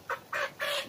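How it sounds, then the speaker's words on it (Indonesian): A young Arab laying hen, about two and a half months old, gives three short close clucks in quick succession, each a little longer than the last. "ayam Arab, ayam yang tipe untuk petelur"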